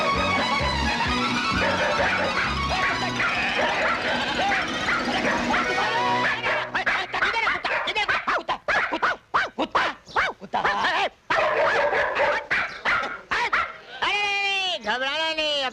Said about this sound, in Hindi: हाँ अबे काटना नहीं मोती